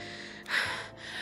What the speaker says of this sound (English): The only sound that can be heard is our gasps for breath as we sit in the darkness.